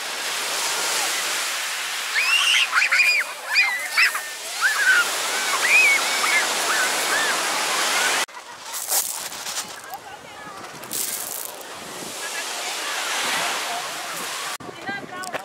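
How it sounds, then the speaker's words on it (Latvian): Large sea waves break and surge on a shore, with a strong undertow pulling back, loud and continuous with wind buffeting the microphone and a voice speaking over the first half. "diezgan lieli viļņi"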